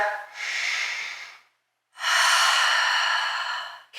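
Two deep, breathy exhales during a yoga stretch, the first shorter and the second long and full, close and clear with a pause of silence between them.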